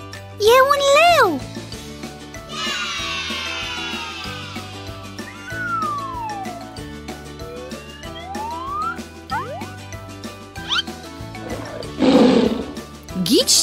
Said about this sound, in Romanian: E un tigru!